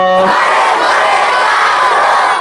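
A large crowd roars in unison in reply to a Nara-e-Takbir call at an outdoor religious gathering, a loud sustained collective shout lasting about two seconds after a brief voice at the start.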